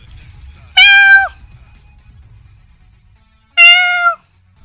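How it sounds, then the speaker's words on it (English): Lucky Chloe, a video game character, gives two clear, loud cat meows a few seconds apart over a quiet low rumble. "Meow."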